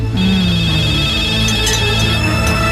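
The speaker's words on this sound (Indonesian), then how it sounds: "Nek, kayaknya ada telepon tuh." A telephone rings steadily in a home during a televised football quarter-final broadcast, its repeating electronic tones loud and continuous over background TV sound.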